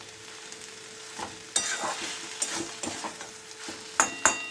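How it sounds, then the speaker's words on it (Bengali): Fenugreek greens curry with vegetables being stirred in a pan, repeated scraping strokes over a soft steady sizzle, close and moderately loud with no talking. "আপনারা চাইলে সবজিগুলোকে একটু ঘেটেও দিতে পারেন"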